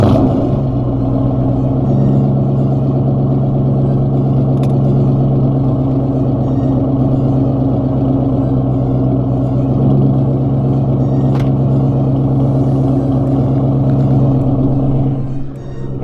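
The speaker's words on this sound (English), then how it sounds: "So let's get the cold start going." A Ford Mustang engine cold starting at an outdoor car meet, settling into a loud, steady idle rumble that holds evenly for about fifteen seconds before dropping off, with no talk over it.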